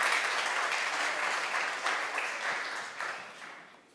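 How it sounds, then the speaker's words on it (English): A conference audience at a DLD Munich talk gives a sustained round of applause, dense and steady clapping filling the room before slowly tapering off near the end. "A big round of applause for Paul."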